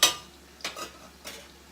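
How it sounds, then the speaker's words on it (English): A spoon stirs quinoa in a cooking pot: three short scraping strokes against the pot, close and distinct, with a quiet pause between each. "Give my quinoa a stir."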